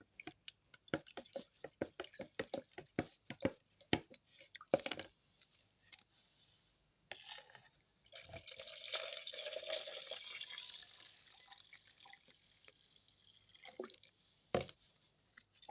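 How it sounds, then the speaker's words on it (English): Water is poured into a homemade Dettol-style antiseptic mixture, with sharp clicks and drips at first, then a few seconds of steady pouring and filling, and scattered splashes and knocks afterward, close and fairly quiet. "So I'll go ahead and add water to it."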